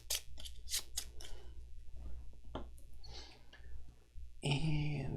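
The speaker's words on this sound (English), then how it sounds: "I'm going to shuffle up the Ronin Scout enemy AI deck here." A Ronin Scout enemy AI card deck from the Stars of Akarios board game is shuffled: several crisp, close riffling bursts at first, then softer rustling and handling, ending in a different, louder noise.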